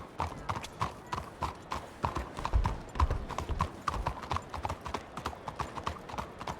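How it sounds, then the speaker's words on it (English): Rhythmic video game horse hoofbeats clip-clop at a steady walking pace, fairly close and moderately quiet, with no other sounds competing. "I think it's a horse."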